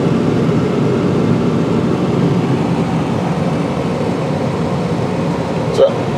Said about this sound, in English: Case wheel loader filling the lime up inside the bin.